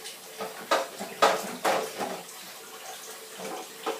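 Water runs from a tap as a child washes a cup, with soft splashing and several light clinks of dishware in uneven bursts, close and fairly quiet.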